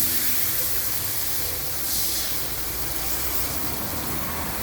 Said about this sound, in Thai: ไปใส่กะทิลงไปครับ ทีนิดทีละหน่อยครับผม